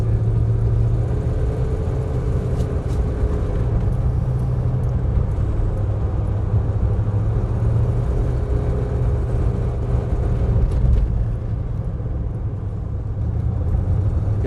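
A big Cadillac's engine pulls hard at full throttle, a deep, steady rumble with a faint rising whine, loud and close, with no talking over it.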